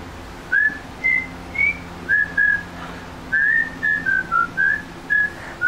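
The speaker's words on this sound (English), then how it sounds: "whistle for her" A man whistles a clear, bright melody of short and sustained notes in a steady tune, close and alone with no talking.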